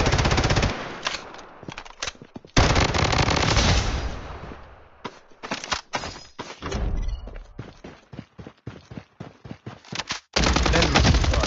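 Heavy gunfire in the video game Blood Strike, loud and close, with sustained automatic bursts broken by short gaps and rapid single shots, thumping throughout.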